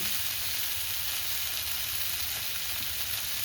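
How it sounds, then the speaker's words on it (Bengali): Bori lentil dumplings fry in ghee for neem ghonto, giving a steady, close, hissing sizzle that holds constant throughout with no voices. "বড়িটা দিয়ে একটু ভেজে নিচ্ছি।"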